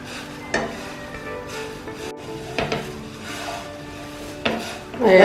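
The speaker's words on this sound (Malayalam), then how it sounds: "ഈ അവല് നമ്മൾ ഇളക്കുമ്പോൾ ചൂടാക്കി കഴിഞ്ഞാൽ ക്രിസ്പി ആവും" Rice flakes being dry-roasted and stirred in a pan give off soft, scattered scraping and rustling with a few sharper knocks of the spoon against the metal, fairly quiet and close.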